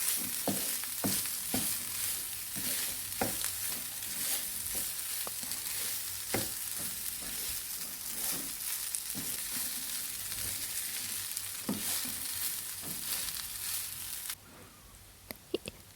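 Chicken fried rice is stirred and tossed in a hot pan, a steady sizzle with frequent sharp scrapes and taps of the utensil, dropping to near quiet at the very end.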